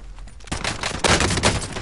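Gunfire in Warzone, a rapid burst of shots under dense battle noise that swells louder partway through and stays busy to the end.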